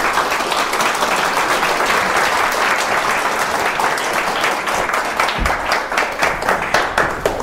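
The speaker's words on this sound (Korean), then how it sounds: "뜨거운 박수를 받아주십니다" An audience applauding to welcome a Buddhist monk to the stage for a lecture, sustained dense clapping that thins toward the end into more distinct individual claps.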